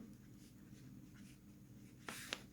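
A math equation is written out by hand in faint, quiet strokes, then two sharp scratches come close together near the end, with no talking.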